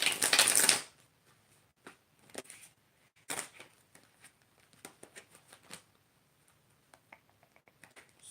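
Playing cards are shuffled by hand, starting with a loud riffle burst. It is followed by quieter, irregular taps, slides and flicks of cards being squared and cut, close up with no voices.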